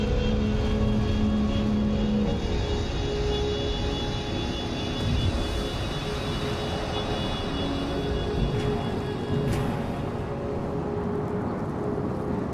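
Aircraft flying ahead in the video game Star Citizen near ArcCorp, a steady droning engine hum with high tonal whine that continues throughout at moderate level, with no speech.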